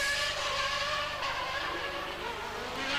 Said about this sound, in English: but Mansell going for the big lap